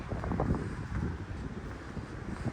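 Wind gusts across an open balcony of a large seaside house, buffeting the microphone in loud, uneven rumbling bursts.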